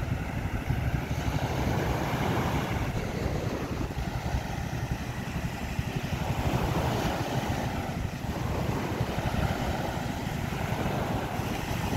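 Continuous ocean surf rushes and roars over steady wind noise, with the low drone of a boat engine underneath; no voices.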